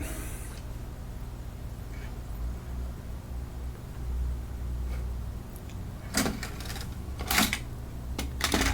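A Sony MDS-JB940 MiniDisc deck ejecting a disc: quiet mechanical whirring under a faint room hum, followed by a few sharp close clicks and clunks near the end as the tray mechanism moves.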